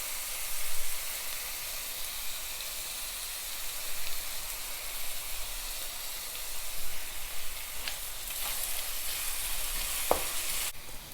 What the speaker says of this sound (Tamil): இப்போ ஆனியன் நல்லா ஃப்ரை ஆயிடுச்சு.